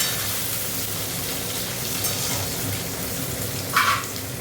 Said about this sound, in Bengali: আলু পেঁয়াজটা ভাজা হলো